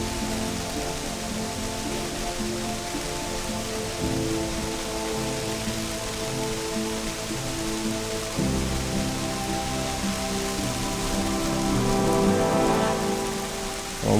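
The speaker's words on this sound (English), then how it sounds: "And now the rain comes." Steady rain falls on a surface as a continuous dense patter, fairly loud and close, with no voices.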